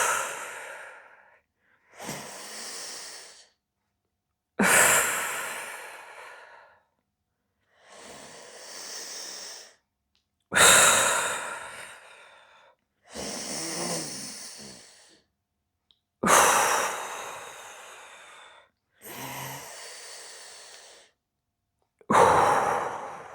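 Slow, deep core breathing during a postpartum deep core activation exercise: about eight long, breathy inhales and exhales alternate with brief pauses, close and clear, with no talking.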